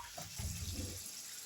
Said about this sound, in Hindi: अब इसमें तकरीबन 1 कप पानी डाल दें